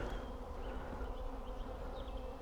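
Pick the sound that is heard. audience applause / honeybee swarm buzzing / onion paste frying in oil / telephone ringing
honeybee swarm buzzing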